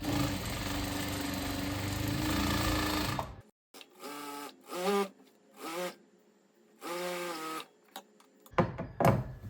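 A sewing machine stitches together the kali panels of a semi-Patiyala salwar, running steadily and loud for a few seconds before stopping, followed by someone talking in short bursts.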